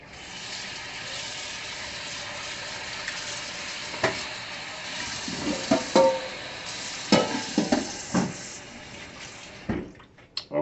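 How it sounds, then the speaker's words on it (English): Potatoes for corn chowder are stirred in a pot over medium heat, giving a steady sizzle with scattered scraping and clacking stir strokes, close by and with no talking. "going to stir those potatoes in for a second on this medium heat"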